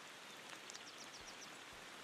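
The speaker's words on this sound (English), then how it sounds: "Started raining." Steady, faint rain patter falling in the driving game Motor Town: Behind the Wheel, a soft continuous hiss with scattered droplet ticks and no voices.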